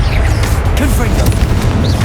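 A Confringo fire spell cast in the PS5 game Hogwarts Legacy, heard as a loud, sustained booming blast with a deep rumble and crackling layered over it.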